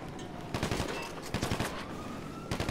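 Assault rifle gunfire in GTA V Online, a few short rapid bursts exchanged back and forth with brief gaps between, close and fairly loud over a faint background hum.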